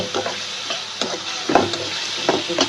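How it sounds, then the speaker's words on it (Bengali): A rohu fish head fries in plenty of hot oil in a wok, sizzling steadily up close while a utensil scrapes and clacks against the pan in irregular stirring strokes. "সুন্দর করে ভাজা ভাজা হোক।"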